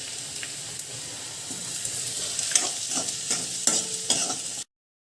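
Soya chunks roasting in a pan, with a continuous sizzle and repeated scraping stirs that grow livelier toward the end before stopping abruptly.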